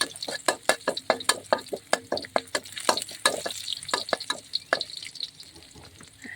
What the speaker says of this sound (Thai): จากนั้นเราก็เอากระเทียม ลงไปเจียวให้หอมเลยนะคะ